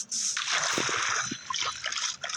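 Water placed in the Minecraft video game makes a bright, hissy splashing and trickling wash that runs steadily for a couple of seconds at close range, with a few soft thuds beneath it.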